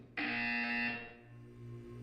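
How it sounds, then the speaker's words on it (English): A single loud buzzer sounds in the video game Portal 2, a harsh, sustained electronic tone lasting about a second before cutting off, followed by a low background hum. "When you hear the buzzer, look up at the ceiling."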